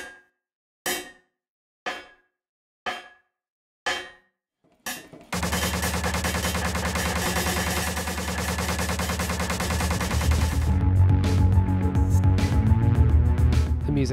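Bullet impact effects from the game Angry Bots: five sharp metallic clangs spaced about a second apart, then a dense, loud burst of layered hits and game sound that carries on to the end.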